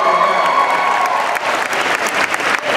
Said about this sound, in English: they're going to clap a lot for you guys right now